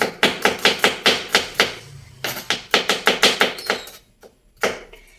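Garlic cloves sliced with a knife on a cutting board while cooking pochero, a quick run of sharp, evenly spaced close chops, a brief pause, then another burst of rapid cuts tapering to a few scattered strikes.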